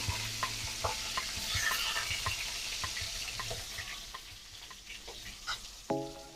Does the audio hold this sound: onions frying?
yes